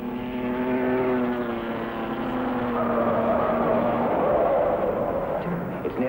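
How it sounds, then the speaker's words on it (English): A Fiat Topolino race car pulls away from the Mille Miglia start, its small engine giving a steady droning hum that climbs slightly in pitch as it moves off, with noisy crowd and street ambience behind it. "And off goes a Fiat Topolino"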